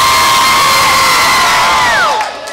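A concert crowd in a tent cheers and shouts in a loud, dense roar that holds steady, then fades near the end, with no talk.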